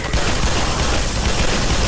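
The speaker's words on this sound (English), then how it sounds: "Oh shoot, I'm shooting my own men!" Garry's Mod gunfire comes as a dense, loud, unbroken burst of rapid shots and booms, close and harsh, with no speech heard.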